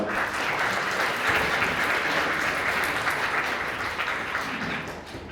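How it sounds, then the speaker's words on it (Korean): Steady applause from a wedding audience, sustained and even for several seconds at a fairly loud, close level. "축사자를 위하여 따뜻한 응원의 박수 부탁드립니다."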